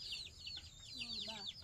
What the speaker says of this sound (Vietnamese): Bà cho mấy con gà bé bé nuôi nhá.